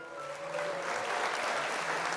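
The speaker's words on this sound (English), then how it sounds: "round of applause for mihoyo" Short burst of applause rising after a faint tone, steady clapping for about two seconds, fairly quiet.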